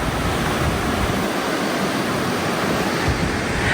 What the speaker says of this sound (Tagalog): Ay malakas ang tubig.